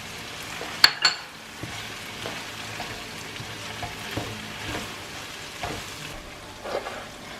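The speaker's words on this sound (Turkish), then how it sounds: "Arkadaşlar tereyağımızı ilave ediyoruz." Butter goes into meat sizzling in a sac tava pan, giving a soft continuous frying crackle with a couple of sharp metallic clacks near the start and occasional scrape-like stirring noises, fairly quiet and close.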